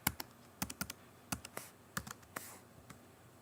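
A password is typed on a computer keyboard in quiet, irregular bursts of crisp key clicks, close but soft, with short pauses between groups of presses.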